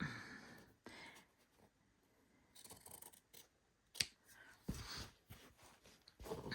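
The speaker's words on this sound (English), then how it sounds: "let me get my scissors here and let's just trim that" Scissors snip through quilt fabric in a few short, crisp cuts separated by pauses, close and quiet.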